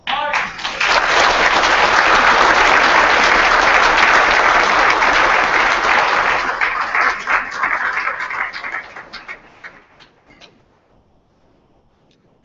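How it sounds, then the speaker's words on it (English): An audience at a commencement ceremony gives sustained, loud applause for the Nash Central High School Navy Junior ROTC. The clapping holds steady for several seconds, then thins out and fades into scattered claps before stopping. "a round of applause to the Nash Central High School's Navy Junior ROTC, led by Sergeant Major Ian."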